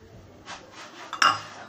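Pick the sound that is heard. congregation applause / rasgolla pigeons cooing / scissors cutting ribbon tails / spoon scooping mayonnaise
spoon scooping mayonnaise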